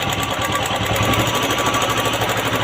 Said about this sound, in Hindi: ये जो टैपेट का साउंड है, ये जैसा हीट अप हो रहा है, बहुत ज़्यादा हो जा रहा है